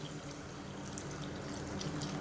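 Water pours into a cooking pot while preparing coconut milk biryani, a steady close splashing and gurgling stream that runs on without a break.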